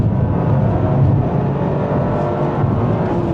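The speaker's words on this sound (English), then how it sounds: "And it's only got 3 cylinders. Yeah, and that's what gives it the great sound." Toyota GR Yaris three-cylinder engine pulling under acceleration, a steady, loud, gruff drone heard from inside the car, with no talking over it.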